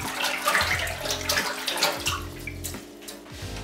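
Water with a few drops of bleach stirred by hand in a sink of about six or seven litres, a steady close sloshing and swirling that continues for several seconds without talk.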